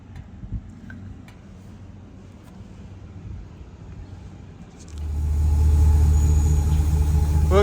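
A 1961 International C110 pickup engine sits quietly before catching at about five seconds, then settles into a loud, rough, rumbling idle close by.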